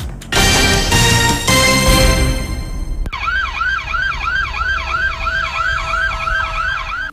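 A fire drill siren sounds at a company building in Davao City: a loud, steady rising-and-falling electronic wail that repeats in quick cycles, after a few seconds of loud, rough noise.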